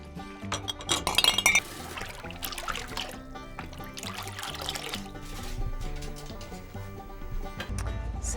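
Dye is poured into glass jars in a textile artist's studio, with clinking glass and a liquid trickle at the start, then quieter handling and low background noise.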